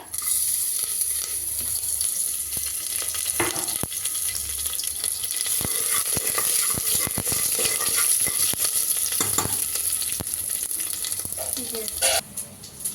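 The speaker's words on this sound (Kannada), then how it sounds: "ಒಗ್ಗರಣೆಗೆ ಸಾಸಿವೆ ಹಾಕಿದ್ದೀನಿ ಒಣಮೆಣ್ಸಿನ್ಕಾಯಿ ಕರಿಬೇವು ಜಜ್ಜಿಟ್ಕೊಂಡಿರುವಂಥ ಬೆಳ್ಳುಳ್ಳಿ ಇಷ್ಟನ್ನು ಕೂಡ ಒಗ್ಗರಣೆಗೆ ಹಾಕಿ ಫ್ರೈ ಮಾಡಬೇಕು" Mustard seeds, dried red chillies, curry leaves and crushed garlic sizzle steadily in hot oil for a South Indian tempering, a close, continuous frying hiss with small pops and a few scraping or knocking sounds, and no talking.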